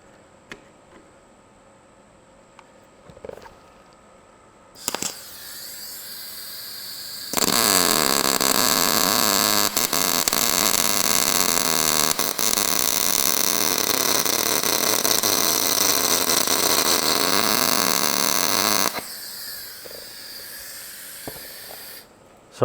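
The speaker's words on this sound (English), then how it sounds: "So I've welded in the centre there." A loud, steady hissing crackle runs unbroken for about twelve seconds while a broken bolt on a Massey Ferguson 65 tractor is welded. It is close up, with a few faint clunks before and after.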